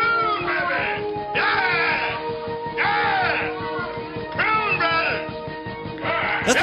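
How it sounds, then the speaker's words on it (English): A man screams in a film, one of the Prune Brothers characters, in loud drawn-out wailing cries that rise and bend in pitch, coming in four or five separate bursts with short gaps over a steady background tone. "That's one of the Prune Brothers screaming about being a Prune Brother"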